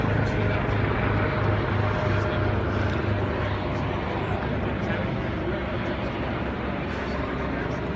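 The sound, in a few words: helicopters flying overhead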